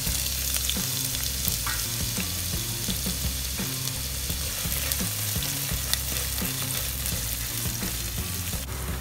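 Chopped onion sizzles loudly in hot sunflower oil in a pan, a steady dense crackle with occasional stirring scrapes for a kickabout Chicken Kabsa, with no talking.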